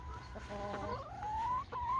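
A few chickens cluck softly nearby, with rising and falling calls over a low background hum.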